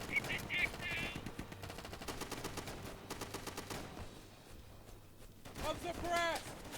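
Machine-gun bursts and rifle shots crackle in the WW2 video game Easy Red 2, coming in rapid rattling volleys at moderate distance, with voices heard between the firing.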